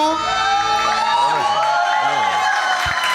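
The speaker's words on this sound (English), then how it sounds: "Big round of applause, ladies and gentlemen" Cheering and clapping from a crowd at a musical night event, heard close and loud. Shouts and whoops ride over a steady wash of applause.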